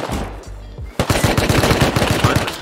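Gunfire in the survival game Rust: a couple of isolated shots, then a fast, loud automatic burst of closely spaced rounds fired close by.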